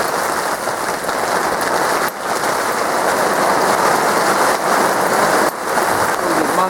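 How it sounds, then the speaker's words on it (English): Heavy rain and hailstones pound down at a lakeside carp fishing spot in gusty wind, a dense, loud, continuous roar of drops hitting surfaces with brief dips in intensity. "it's absolutely peeing it down, but hailstones"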